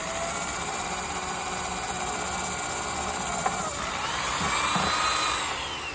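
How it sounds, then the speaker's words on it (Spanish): Electric drill boring holes, a continuous high-pitched whirring motor that swells slightly in the final seconds, close and steady with no talk. "vamos a poner una broca más larga porque esta está muy chiquita"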